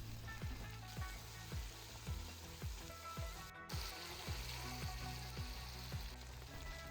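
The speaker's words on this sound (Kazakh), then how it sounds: "Етті қуырамыз жақсылап." Meat and onions fry in a kazan with a steady low sizzle, broken by a regular series of soft scraping stirs and clinks, close-up with no voices.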